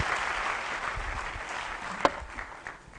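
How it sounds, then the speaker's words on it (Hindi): An audience at a corporate training session claps together, a steady wash of applause that lasts a few seconds, with one sharp louder clap near the end before it thins out. "एक बार ताली देके सिंह साहब को वापस अपनी चेयर पे लेके आते हैं।"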